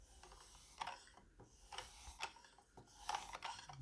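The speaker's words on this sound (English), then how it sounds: "Alright, time to give this lapping film a go." A kitchen knife drawn across 1800 grit lapping film on a Worksharp Precision Adjust sharpener, giving quiet, dry scraping strokes in an uneven rhythm, close up with no talking.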